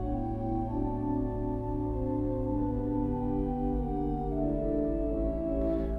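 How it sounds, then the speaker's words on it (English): Sustained chords from a flute stop on a large five-manual Austin pipe organ, mellow and round, held steadily at even volume with no voices over them. "Let's try it with the flute."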